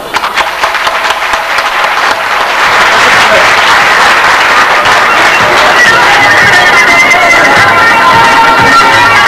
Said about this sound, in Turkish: sizin önünüzde onları alkışlıyoruz